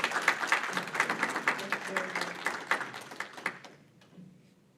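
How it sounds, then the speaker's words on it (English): Audience applauding at a live event, a burst of many hands clapping that thins out and fades toward the end, with voices mixed in. "Let's give them a round of applause."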